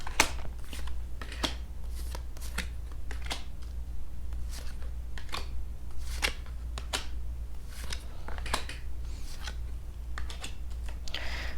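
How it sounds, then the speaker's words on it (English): Tarot deck shuffled by hand at close range, quiet rapid riffling and flicking of cards in irregular bursts over a low steady background hum. "Let me shuffle this again."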